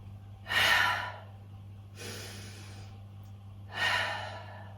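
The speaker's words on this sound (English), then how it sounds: "Holding here for 3 rounds of breath in through the nose." Slow nasal breaths during a yoga hold: three distinct airy inhales and exhales, each lasting about a second, close and clear over a low steady hum.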